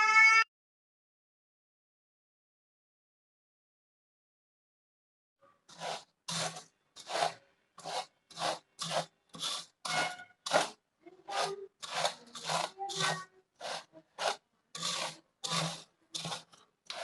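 Puffed rice mixed with jaggery syrup by hand for pori urundai gives a steady run of rhythmic crunchy, rustling strokes after a brief opening sound and a long silence, close and alone.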